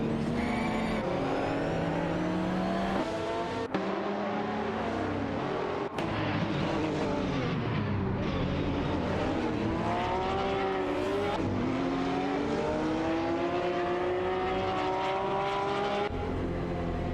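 Race cars in a simulated AI-driven racing game jostle for position, layered engine whines climbing and dropping in pitch continuously as cars overtake, loud and close without pause.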